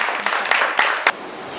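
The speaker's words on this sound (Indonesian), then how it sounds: "Tepuk tangan dulu untuk kelompok." Classroom of biology students applauding a student group, a dense patter of many hands clapping together for about a second before breaking off into quiet room tone.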